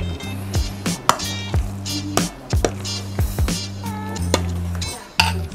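Baked sushi ingredients mixed with furikake seasoning in a bowl: repeated clinks and scrapes of a utensil against the bowl with soft squishing, over a low steady hum and no talk.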